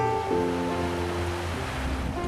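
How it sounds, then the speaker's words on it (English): Rough sea water sloshing back and forth in a cruise ship's swimming pool while sailing the Inside Passage of Alaska, a steady washing rush with wind noise and a low engine hum. "the water is kind of rough and the swimming pool is sloshing back and forth"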